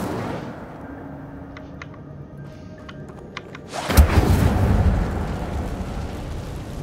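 Incendio fire spell cast in Hogwarts Legacy inside a cave, a sudden loud fiery burst and whoosh erupting after a quiet stretch of faint ambient tones, then roaring and slowly fading.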